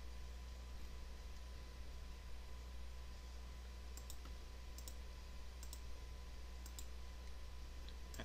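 Small, sharp computer mouse clicks come in a quick cluster of about a dozen taps, faint over a steady electronic hum while working in Adobe Illustrator.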